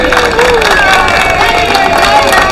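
A crowd at a hospital's International Women's Day event claps and cheers together in a dense, continuous wash of applause with voices mixed in.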